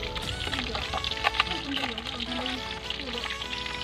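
Water pours steadily in a home kitchen while escabeche is being cooked, a continuous splashing flow heard close up under a person talking, with faint background tones running alongside.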